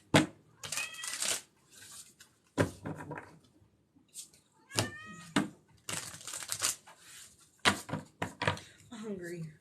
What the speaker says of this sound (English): you hear more cats? I have 6 cats.